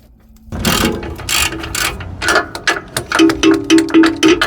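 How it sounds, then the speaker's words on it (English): A long 1/2 inch ratchet loosens a tight 18mm bolt on the rear brakes of a 1999-2006 Chevy truck, a loud, close, rapid series of metallic clicking bursts with short pauses between strokes. "I got a pretty long 1/2 inch ratchet here"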